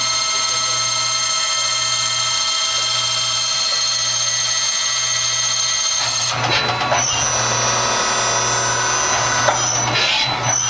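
A Tsugami BS20BII CNC Swiss lathe running slide tooling at 3500 RPM, a loud steady machine whine with a low periodic hum, joined midway by brighter cutting and shifting tones.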